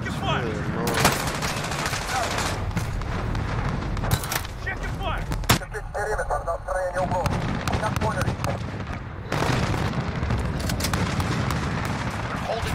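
Heavy gunfire in Call of Duty Modern Warfare, loud sustained automatic bursts and booming explosions, with a brief lull mid-way before the firing resumes, while in-game voices and a player talk over it.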